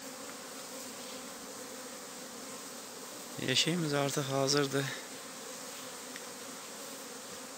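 Honeybees buzzing around a hive box in an apiary, a steady close insect drone running throughout, with a person speaking briefly over it in the middle.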